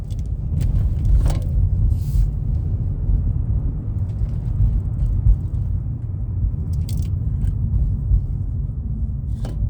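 Car driving along at steady speed, with a low, constant rumble of road and engine from inside the cabin and a few brief clicks and rustles.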